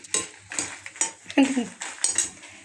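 Dry red chillies and coriander seeds roast in a pan as a utensil repeatedly scrapes and clinks against the metal, close and fairly loud, in irregular strokes with no talk.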